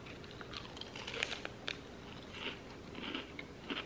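Beef brisket carnivore crisps, crispy meat chips, crunch between the teeth in a series of close, crisp bites and chewing crackles at an irregular rhythm.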